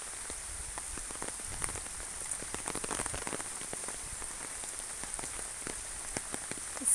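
Steady rain falls across a garden in Puttaparthi, a dense, even patter of drops on surfaces with scattered louder splashes, continuous and close with no voices.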